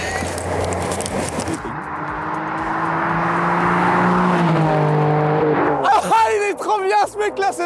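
Nissan 350Z engine revving hard as it passes on a track day, a loud sustained roar that rises and then drops, with people shouting and talking over it near the end.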